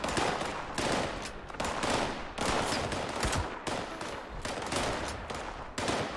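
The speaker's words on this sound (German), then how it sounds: "da ich dich sehen kann, schieße ich auf dich" Sustained gunfire from a Fallout 76 video game battle, with repeated bursts of shots in a steady rhythm that stays loud and close throughout, no voices.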